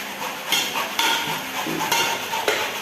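Onion stirred in a pan as it fries until brownish, with repeated utensil scrapes and clinks against the pan over a soft background sizzle, no talking.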